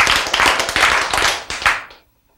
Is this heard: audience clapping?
yes